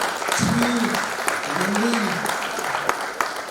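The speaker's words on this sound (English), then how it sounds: "why don't you give a applause" Crowd applause at a fundraising gala for a congressional campaign, steady clapping filling the room while a voice or two speaks faintly underneath.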